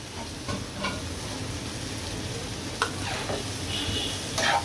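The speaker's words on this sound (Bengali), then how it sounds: "এই পর্যায়ে এসে আমি পেঁয়াজগুলো দিয়ে দিচ্ছি।" Onions tipped into a pan of frying hilsa fish with bitter gourd, giving a steady soft sizzle with a few stirring scrapes and clinks, close but quiet.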